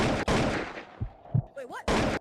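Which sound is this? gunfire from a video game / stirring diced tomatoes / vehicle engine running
gunfire from a video game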